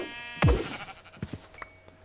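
A sheep bleats once, loud and close, in the game RLcraft, a falling wavering cry followed by a few soft thumps and a faint chime amid quiet background.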